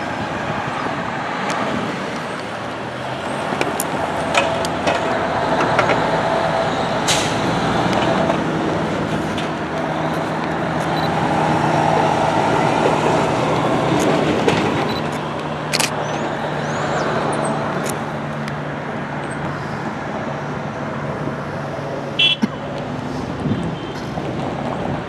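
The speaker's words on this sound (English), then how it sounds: "the M9 set's making its way west, about to go underneath Veterans Memorial Highway" A Long Island Rail Road M9 train passing westbound under Veterans Memorial Highway, a steady broad rumble that swells and fades over about twenty-five seconds, with occasional clanks and wind noise and no talk.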